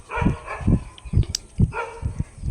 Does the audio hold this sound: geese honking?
no